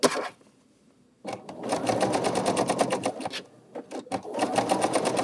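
A sewing machine stitches the elastic casing of a small doll skirt in rapid, even bursts. A pause separates the stitching runs, and the last run is broken by brief stops. The machine is close and loud, with no talk.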